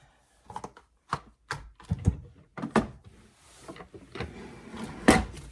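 Drawer in a home art and craft workspace opening and closing, a run of sharp wooden knocks and slides with short pauses, close and fairly loud, no voices.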